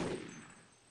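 Gunfire aimed at an enemy in the Half-Life video game, a brief burst of shots with a strong thud at the start that fades quickly, with no voices over it.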